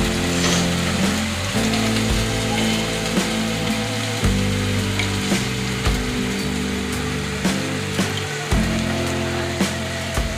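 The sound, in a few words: hilsa fish pieces frying in mustard masala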